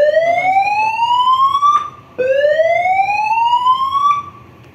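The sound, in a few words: building emergency alarm message from a speaker amplifier system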